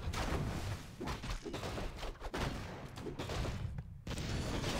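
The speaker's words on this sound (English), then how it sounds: "These both players just kind of using siege weapons to each other, trying to siege each other down" Siege weapons and mortar teams trade fire in a Warcraft III match, a dense, continuous barrage of overlapping booms and impacts with hardly a pause.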